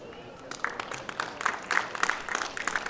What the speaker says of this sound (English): you all deserve a better round of applause for making it here